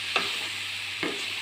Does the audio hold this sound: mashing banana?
yes